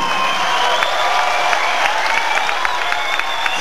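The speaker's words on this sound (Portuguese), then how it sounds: "com aplausos para os nossos convidados super especiais" Steady applause from a crowd at a live concert in 1996, dense clapping filling the whole stretch with a few sharper claps standing out, loud and close.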